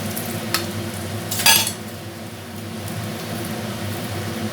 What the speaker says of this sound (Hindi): इसको अच्छे से फ्राई होने देते हैं।